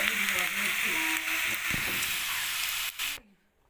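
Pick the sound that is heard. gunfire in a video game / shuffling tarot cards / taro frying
taro frying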